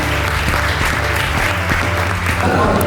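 Audience applause fills a beauty pageant final, steady dense clapping throughout, loud and close, with a voice speaking over it.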